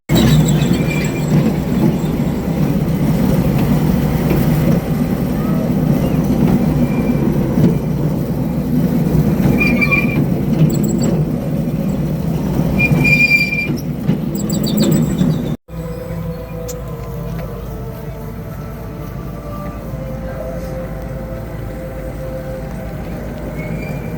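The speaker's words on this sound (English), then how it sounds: "Hey, are we gonna ride a train?" Ongoing train ride on a cold evening among Christmas lights, a loud steady rumble of wheels on rails with faint high squeals, cutting abruptly midway to a quieter, lighter running noise.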